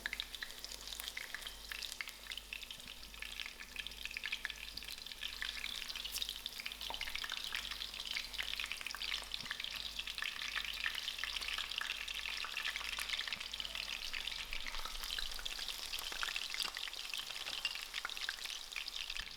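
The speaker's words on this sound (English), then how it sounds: "I will fry out 2 at a time, and we'll keep watching and keep turning" Steady, close sizzling and crackling of chicken mince burger patties frying in a hot pan, continuous throughout with occasional louder pops and no talking.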